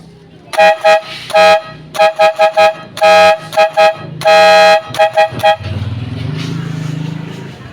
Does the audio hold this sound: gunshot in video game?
no